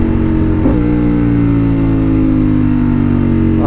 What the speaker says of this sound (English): I love that downshift.